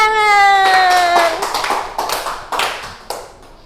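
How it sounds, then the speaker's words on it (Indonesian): A small classroom group claps briefly as a few scattered, uneven hand claps, following a sustained sung or spoken tone. "tepuk tangan"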